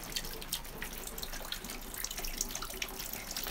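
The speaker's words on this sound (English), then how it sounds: "We got us a nice little drain running in here." Water runs in a drain inside an echoing chamber of mortar-lined brick, a faint steady trickle and splash with scattered drips and no talk.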